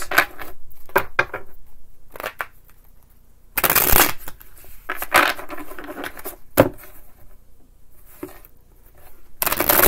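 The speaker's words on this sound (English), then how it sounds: "a couple quick shuffles for my Virgo Libra cusps" Tarot cards shuffled in several quick bursts, crisp riffling rustles separated by short pauses, close and fairly loud with no talking.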